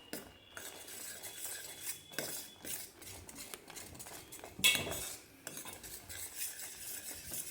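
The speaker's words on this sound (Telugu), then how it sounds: "రెండు నిమిషాల పాటు కలుపుతూ ఉడికించుకోవాలి" A spoon stirs drumstick and oats soup in a cooking pot, giving repeated soft scraping and clinking against the metal over a faint simmering sizzle, close and without talk.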